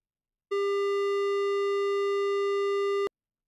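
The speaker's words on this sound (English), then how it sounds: "now we can fill a buffer with this transfer function and feed it into Shaper along with a sine wave input signal" A sine wave run through a Shaper transfer function in SuperCollider, producing a single steady, bright buzzy tone rich in overtones that sustains evenly for about two and a half seconds and then cuts off sharply.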